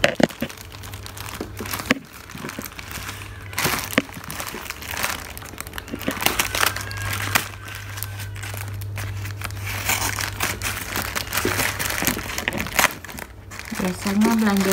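Plastic packaging of frozen food such as meatballs is crinkled and torn open close up, a continuous rustling and crackling that runs under steady talk from the people nearby.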